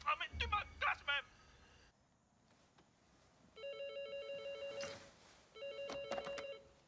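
A telephone rings twice in repeated electronic trilling bursts indoors, after a few short exclamations from a voice at the start.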